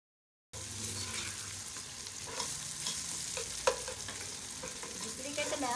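Ginger and garlic sauté in a pan for an aloo baingan sabzi, a steady soft sizzle with occasional stirring scrapes, close and fairly quiet.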